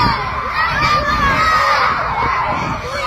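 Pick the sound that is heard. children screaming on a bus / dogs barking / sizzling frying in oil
children screaming on a bus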